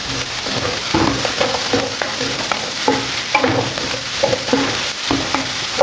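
Pieces of potato, carrot and beetroot go into a hot pan for pav bhaji, setting off a steady sizzle with repeated clinks and scrapes of stirring, close up, with no voice.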